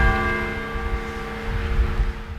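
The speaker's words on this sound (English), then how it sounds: "Bells chimed in downtown Athens this morning" Church bells in downtown Athens chime with a sustained, ringing tone that is loud and steady, as though heard from nearby, with a low outdoor rumble underneath.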